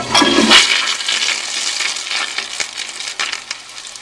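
A newer Kohler Wellcomme 1.6-gallon toilet flushes with a loud, short rush of water that starts abruptly and drains off over about four seconds, heard up close indoors.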